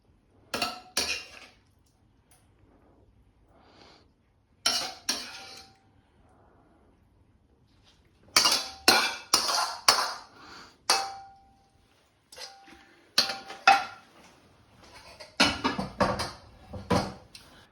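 Beef with ginger and spring onion is served up: a spoon or utensil scrapes and clinks against a wok and plates in bursts of metallic clatter, with quiet pauses between.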